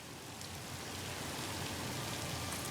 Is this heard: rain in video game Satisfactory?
yes